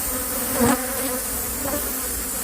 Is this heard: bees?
yes